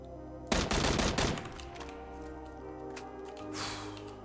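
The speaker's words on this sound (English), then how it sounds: "It's a guy right there shooting at me." Enemy gunfire in the battle royale shooter Battlegrounds: a loud rapid burst of automatic shots up close, followed by ringing tail and a fainter second volley a few seconds later.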